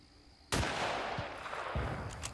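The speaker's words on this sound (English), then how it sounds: "And I'm gonna shoot him." A single loud gunshot rings out in Battlefield: Bad Company, a sharp blast followed by a long rumbling decay. A couple of fainter thumps follow within the echo, with no speech.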